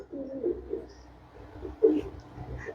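Pigeons coo softly at close range, a few low burbling calls in a quiet setting, faint and brief.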